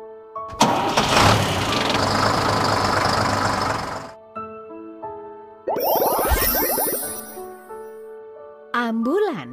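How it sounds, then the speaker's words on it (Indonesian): A large vehicle engine starts and rumbles heavily for a few seconds, then cuts off before playful electronic chimes and a wobbling tone. "Bis."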